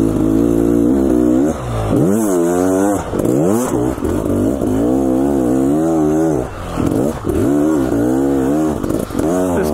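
A 2022 Beta XTrainer 300 two-stroke enduro dirt bike engine revs hard and close, its pitch repeatedly climbing and dropping as the rider throttles on and off, loud throughout.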